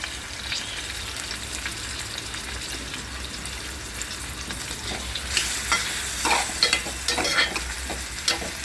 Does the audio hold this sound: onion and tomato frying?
yes